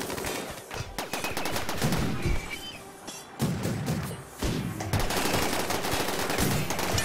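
Mech cluster weapons firing in a video game with an EMI dynamo, as a sustained loud barrage of rapid gunfire bursts and heavy thuds across the whole stretch, with brief dips between volleys.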